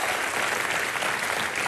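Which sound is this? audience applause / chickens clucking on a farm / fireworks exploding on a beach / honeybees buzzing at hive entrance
audience applause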